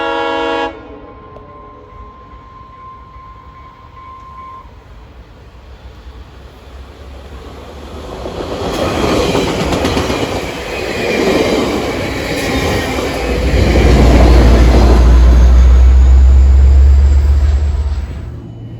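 West Coast Express commuter train in Vancouver hauled by an EMD F59PHI diesel locomotive: a brief horn note at the start, then the rumble swells as the train approaches, ending in a loud, close, deep diesel drone.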